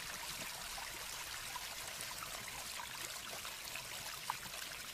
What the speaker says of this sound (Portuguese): Chegando à cachoeira